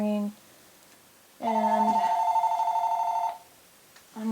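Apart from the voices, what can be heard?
mobile phone ringing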